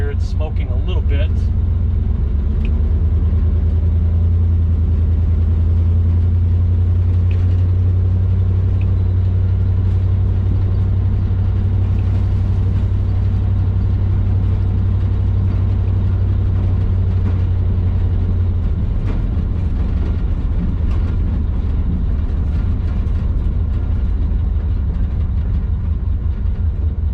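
A 1970 Chevelle's engine rumbles deep and loud while the car is driven carefully along back streets, with a strong low drone that drops away near the end and occasional mechanical noises.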